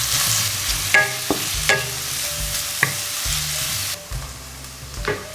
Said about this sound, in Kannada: ಇದಕ್ಕೆ ಚಾಪ್ ಆನಿಯನ್ಸ್ ಹಾಕ್ಕೊಳ್ತಿದ್ದೇನೆ. ಇದನ್ನು ಬ್ರೌನ್ ಆಗುವವರೆಗೆ ಫ್ರೈ ಮಾಡುವ.